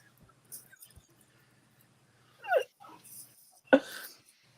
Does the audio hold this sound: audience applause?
no